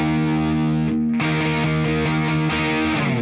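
A distorted electric guitar rings a sustained note, then a heavy power chord hits and is restruck in a chugging rhythm, loud and dense throughout.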